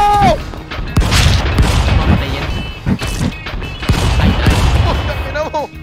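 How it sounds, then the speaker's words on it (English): Grenade explosions in Stick Fight: The Game, several heavy booms and crashing blasts in quick succession, loud and close, mixed with excited voices talking and shouting over the chaos. "Oh, it's grenades!"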